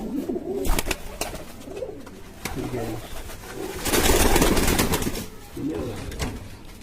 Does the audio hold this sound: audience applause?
no